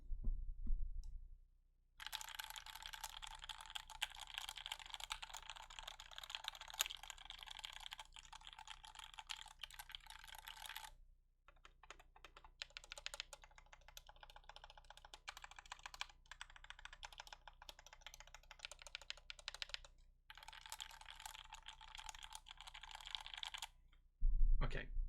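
Canoe Gen 2 mechanical keyboard being typed on, dense rapid clacking in long bursts with brief pauses between runs, close and crisp.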